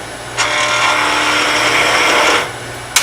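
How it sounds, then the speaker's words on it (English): Skew chisel resting against spinning wood on a lathe, a loud, close, continuous scraping hiss of the cut lasting about two seconds, with the lathe's hum before and after and a sharp tap at the end. "resting the tool against the wood, letting it cut"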